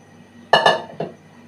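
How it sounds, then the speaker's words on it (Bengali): Meat is tipped into a pressure cooker, producing a few sharp metallic clanks and clinks in quick succession against a quiet kitchen background. "তো এখন মাংসটা হচ্ছে প্রেশার কুকারে ঢেলে দিলাম"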